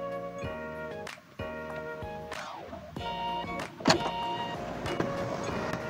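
The powered tailgate on a Chery Tiggo 7 Pro SUV moves under motor drive, giving a steady electric whir with a few mechanical clunks and a latch thump partway through, heard close up and alone.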